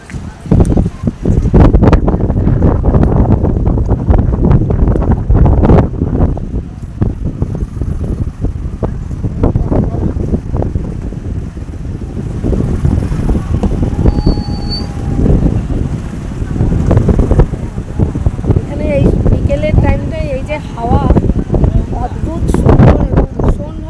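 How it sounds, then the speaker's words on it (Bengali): Loud gusty wind at the seashore in Digha buffets the microphone in heavy, uneven bursts, with people talking underneath and faint surf-like rushing in the background. "প্রচণ্ড হাওয়া এখানে"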